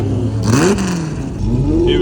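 A Lamborghini on a runway, engine note climbing as it accelerates, then dipping and rising again in a second pull, loud and close with a voice talking over it.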